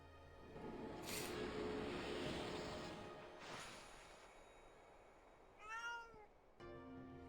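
Noisy audio from the video game Okami with whooshing rushes, followed by a distinct cat meow near the end, then a low steady hum.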